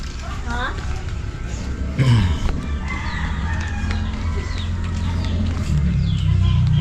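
Chickens and a rooster in the afternoon near a mango grove, a crow rising and falling early on, with clucking scattered around it over steady outdoor background noise.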